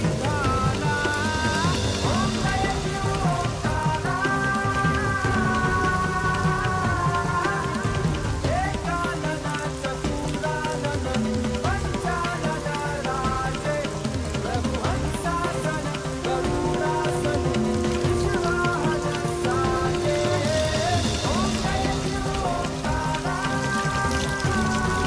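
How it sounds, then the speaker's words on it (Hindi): Rain falls steadily and densely for the whole stretch, a constant close patter on surfaces layered with a busy tonal background, with no voices heard. "बारिश हो रही है"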